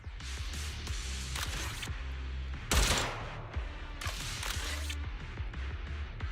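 Rapid bursts of gunfire from the video game Zenless Zone Zero, several clustered volleys fired at distant ether containers, loud and close with a heavier blast near the middle.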